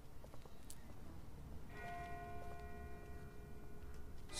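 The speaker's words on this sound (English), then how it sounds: "That's not the same bell as before. This one's further off." A distant bell in The Walking Dead video game rings out faintly over a low ambient hum, one struck tone with sustained ringing overtones that linger and slowly fade.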